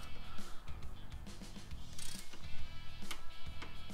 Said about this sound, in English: run down with the torque wrench to 18 foot-pounds